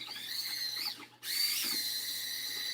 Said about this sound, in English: This is a drill with an auger bit